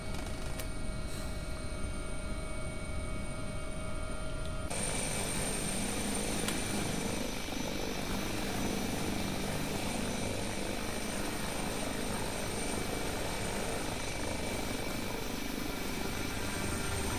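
An AW-139 air ambulance helicopter in a flight simulator game drones on with a continuous engine whine and rotor hum. The sound thickens and grows fuller a few seconds in, then holds steady, with no talk.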